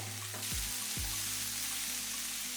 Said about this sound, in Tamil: இந்த தக்காளியெல்லாம் ஒரு முக்கால் பழம் அளவுக்கு வதங்கிடுச்சு